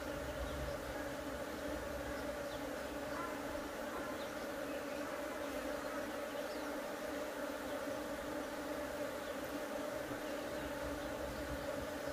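Honey bees from a hive being split into new boxes hum in a steady, dense drone that stays even and close throughout, with no talking.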